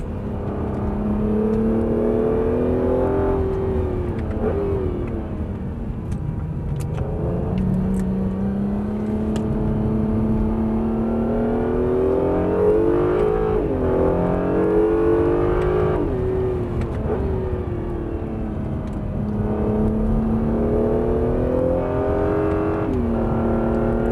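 A Honda NSX hybrid sports car engine roars steadily on the Estoril track with repeated rising and falling revs as it shifts through gears, loud and close throughout.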